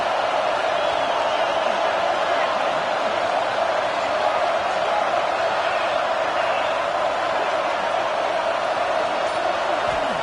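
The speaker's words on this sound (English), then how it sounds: "The roar of the crowd trying to fuel this defense to keep them pinned in their own end." Stadium crowd at a Gators vs Longhorns college football game, a dense continuous roar holding steady throughout, loud and enveloping with no clear breaks.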